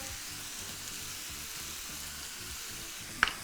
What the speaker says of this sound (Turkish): Bu raddede altını birazcık kısıp hafiften eze eze pişirmek benim için avantajlı.